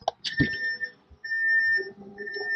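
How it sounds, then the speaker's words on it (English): A 2000 Fleetwood Pace Arrow RV's slide-out warning beeps repeatedly, a steady high tone in long pulses with brief gaps, fairly close, alongside mechanical clunks and low rumble as the slide moves. "you'll hear beeping, and you will see the slide retract out."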